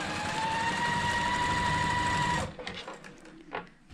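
A sewing machine stitches a quilt block seam in a steady, close, loud whir for about two and a half seconds, then stops abruptly, leaving faint handling noises.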